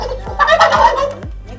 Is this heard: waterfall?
no